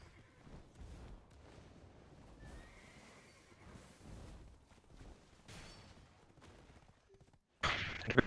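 Horses in the Black Desert video game neigh and whinny with clip-clop hoofbeats over a busy battle backdrop, followed near the end by a sudden loud burst of gunfire-like noise.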